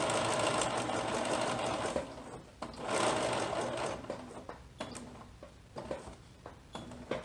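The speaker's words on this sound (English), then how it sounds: "You just sew it all the way around in one solid motion." A sewing machine stitches a baby jumper, its rapid mechanical whir running steadily and close, pausing briefly and then continuing in shorter bursts near the end.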